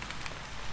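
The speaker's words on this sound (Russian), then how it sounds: "ну откуда здесь дождь идет, да?" Steady rain hiss falling in the horror video game Haunted Memories, a dense, even wash of noise holding at moderate level throughout with no talk.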